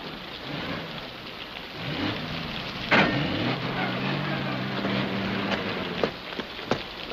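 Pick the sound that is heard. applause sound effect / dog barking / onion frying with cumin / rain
rain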